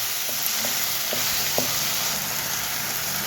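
Tomato seasoned with turmeric and salt fries in a pan, giving off a dense, continuous, loud sizzle with a few faint clicks from a spoon or pan.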